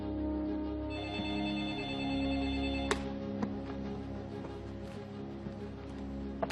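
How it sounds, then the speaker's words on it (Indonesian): A telephone rings with a steady electronic tone, a few sharp clicks and knocks sounding nearby, with no talking. "Maaf Pak Habibie, ada telepon dari Jerman."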